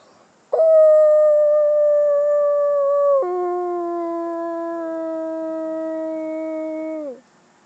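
A person imitates a wolf howl with their voice: one long sustained tonal howl that steps down in pitch midway and then trails off, loud and close, with no other sound around it.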